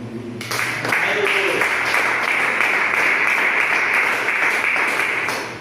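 Church congregation applauding, a dense, sustained wash of many hands clapping, loud and steady for several seconds after a brief spoken moment at the start.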